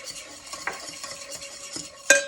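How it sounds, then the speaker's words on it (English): Whisking coconut oil with other ingredients in a mixing bowl while making biscotti: a steady run of soft scraping strokes with light metallic clinks, close and fairly quiet, ending on a sharper knock against the bowl. "I'm going to start whisking that up too"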